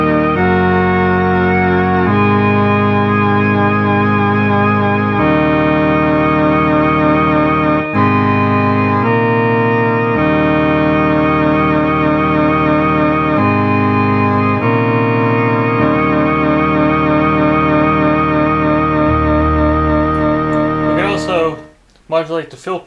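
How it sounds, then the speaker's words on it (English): Moog synthesizer, an Opus 3 section patched to a delayed modulation, playing sustained held chords that change in blocks, loud and alone until a short burst of other sound and a cutoff near the end. "And now you won't hear modulation until it comes in with a delay."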